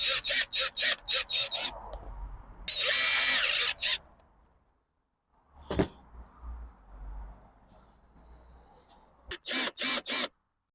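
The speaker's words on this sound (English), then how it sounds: "I'm going to go around with a sander and just sand down all these edges" A power sander works the edges of a wooden bed frame in short bursts, loud and close, with a longer sustained run, a gap of quiet and a sharp knock midway, then more quick bursts at the end.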